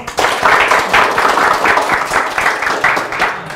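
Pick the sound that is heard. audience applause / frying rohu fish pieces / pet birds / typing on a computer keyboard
audience applause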